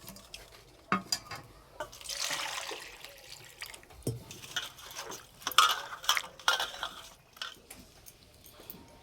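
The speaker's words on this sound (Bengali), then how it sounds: "আলুগুলো পরিষ্কার করে ধুয়ে নেব।" Four medium new potatoes are washed by hand in water, with irregular sloshing, splashes and trickles broken by a few hard knocks and clatters of the potatoes against the bowl, up close and without talk.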